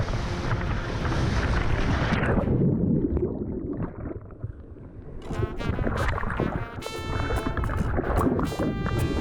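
A rider slides down Sliding Rock, a natural rock waterslide near Asheville, into 8-foot-deep water. Steady loud rushing water runs throughout, with a churning surge and a voice whooping in the later seconds.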